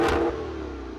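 A Maserati Q4 V8 engine revs hard under acceleration, a brief, loud, throaty roar that eases off within a second.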